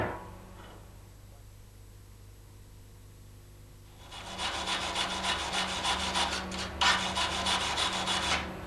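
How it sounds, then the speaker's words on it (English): Tack welds from stick welding are scrubbed clean, probably with a wire brush on steel. A few seconds of quiet give way to close, rhythmic rasping strokes that continue to the end. "Clean the tack welds"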